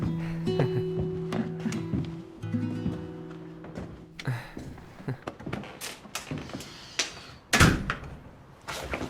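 An apartment door opens and closes with several knocks, thuds and a sharp slam amid scattered clattering, fairly close, with no talk over it.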